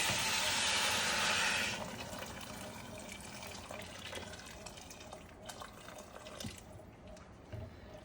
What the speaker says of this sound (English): Now I'm going to add some hot water to cover the rice.